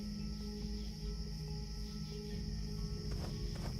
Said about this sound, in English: I actually really like the sound of cicadas in this game.